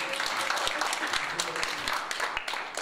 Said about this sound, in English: Please an applause for this lady, is very good.